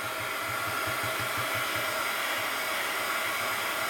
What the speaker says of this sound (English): I want to dry it where it's thick in here. Heat gun alert.